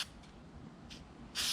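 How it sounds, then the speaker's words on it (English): Short hissing bursts of air filter oil spray onto a motorcycle air filter on a 2006 GSXR600, a few brief faint puffs and then a louder, closer spray at the end. "give it a nice spray."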